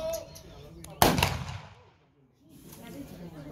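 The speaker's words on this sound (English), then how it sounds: "That's how rifles sound back then." A single loud volley of WWII-era rifles fired together by reenactors at an Eastern Front weapons demonstration, one sharp crack at about a second that decays into echo and silence, with people talking before and after.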